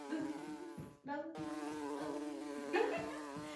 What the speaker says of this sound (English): Make your body small and buzz around quickly, collecting honey from all the pretty flowers.